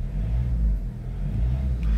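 A Peugeot 407 HDi diesel engine revving, a low, close rumble that rises and dips in short pulls, loud and steady with no voices.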